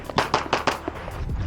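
Sharp gunshots crack in quick succession during a stage of a practical shooting match, several close, loud reports within about a second and a half, followed by softer trailing pops.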